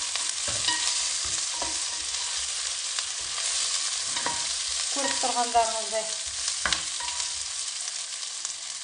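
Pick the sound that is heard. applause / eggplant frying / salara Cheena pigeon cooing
eggplant frying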